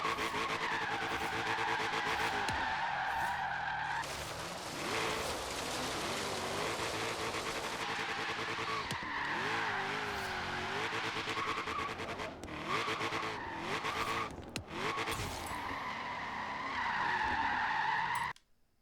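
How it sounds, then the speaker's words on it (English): Car tires spin and skid continuously on a drag strip in the Forza Horizon 3 racing game, a loud sustained screech over engine drone that fades briefly midway before returning until the end. "this car is going to spin the whole way down the drag strip"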